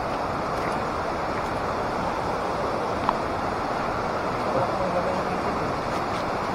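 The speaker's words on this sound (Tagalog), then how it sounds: "Ito lang yung ilog oh. Naririnig nyo na ba?" A river flowing within walking distance of a hut, heard as a steady broadband rush of water close by, constant through the whole stretch with no voices over it.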